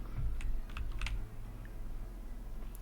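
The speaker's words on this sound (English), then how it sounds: "to keep the keyboard noise out of the recordings" Computer keyboard typing on a Linux or Windows machine, a few scattered keystrokes and short bursts of clicks up close, with a sharper tap near the end over a low steady room hum.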